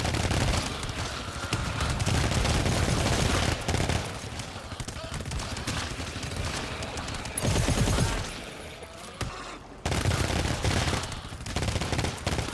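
Dense, sustained gunfire from a GTFO firefight, loud bursts of shooting at enemies with heavy booming impacts, a brief lull near the end before the fire resumes.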